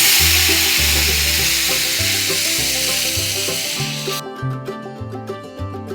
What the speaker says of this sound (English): so I'm going to cook my peaches in 2 batches